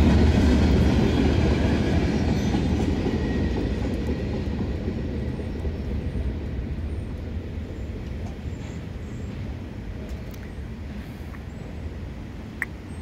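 CSX freight train rolling through Effingham, Illinois, a loud, steady rumble of wagons with rhythmic wheel clatter that slowly fades as it passes, with no talking.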